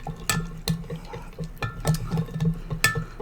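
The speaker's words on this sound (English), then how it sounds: "stir with our spoon until it's completely dissolved in that water" A metal spoon clinks and scrapes against a container while stirring gelatin into hot water, with several sharp taps at irregular intervals over soft liquid swishing, close up.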